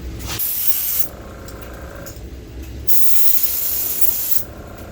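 An airbrush sprays a yellow base coat onto a Storm fishing lure. Two loud, hissing bursts of spray are heard, with a quieter, softer hiss running between them.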